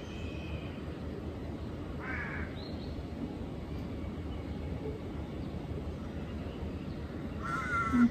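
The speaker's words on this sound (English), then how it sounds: "The sound of the birds in the background." Crows caw a few times in the background, short harsh calls standing out over a steady low ambient rumble with no one talking.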